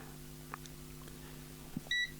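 A multimeter's continuity beep sounds during a half-bridge PCB build, one short clear electronic tone near the end over a low steady background hum.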